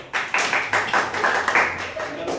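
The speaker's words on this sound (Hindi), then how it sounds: "पीयूष के लिए ताली बजाओ" A classroom of students claps for a classmate, producing uneven, scattered hand claps at close range with murmuring voices mixed in.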